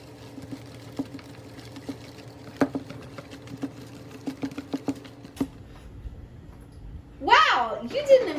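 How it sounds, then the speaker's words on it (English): Sand pudding mixture whisked in a bowl, a soft rhythmic run of light clicks and taps that stops near the end, when a voice starts talking. "Would you mind whisking this for me?"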